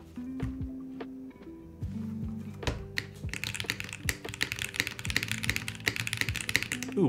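Rapid clacky keystrokes on a mechanical keyboard, starting sparse then building into a fast, steady burst of close-up typing over a low background hum.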